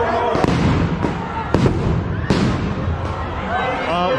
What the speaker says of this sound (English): I think they were flashbangs.